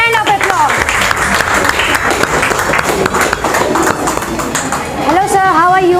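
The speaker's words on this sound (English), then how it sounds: "Give a big hand of applause." Audience applause at a school interview competition, steady clapping filling the room for several seconds while voices and music-like tones rise over it near the end.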